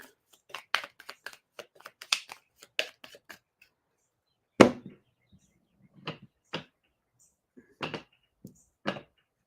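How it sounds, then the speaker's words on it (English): Thick cardboard tiles from the board game Dice Miner clack and slide in quick bursts of sharp taps, pausing briefly, then a few louder isolated knocks, close and otherwise quiet. "At first I thought they were cards, but they're clearly very thick cardboard tiles"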